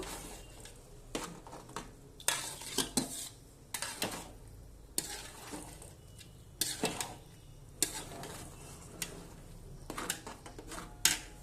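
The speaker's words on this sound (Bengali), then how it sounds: "এবার ঢাকনা খুলে ভালোভাবে এবার আমি একটু কষাবো, কষিয়ে জল দেব।" A spoon stirs and scrapes khichuri frying in an open pot after the lid is lifted. The scraping comes in repeated irregular strokes over a soft sizzle, close and fairly quiet, with no talking.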